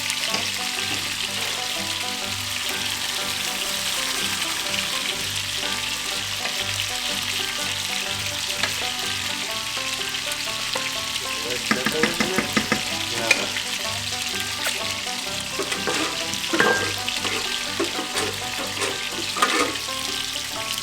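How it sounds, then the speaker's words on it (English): A whole can of tomato sauce goes into a big pot of hot onions and garlic, setting off a steady loud sizzle and bubbling with faint stirring scrapes throughout. "So go ahead and dump that whole can of tomato sauce in there."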